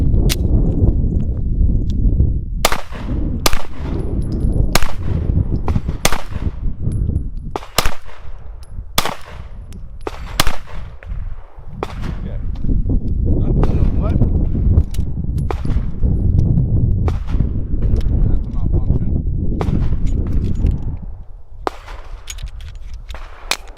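A Gen 3 Glock 19 9mm pistol fired outdoors in a string of sharp, loud reports, some in quick pairs and others spaced by pauses, over a steady rumbling background of wind or handling noise.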